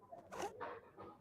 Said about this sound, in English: Zips.